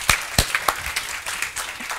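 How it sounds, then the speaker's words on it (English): An audience at a business conference in Gothenburg claps, with a few sharp, distinct hand claps at first, then thinning scattered applause that fades out. "Big round of applause."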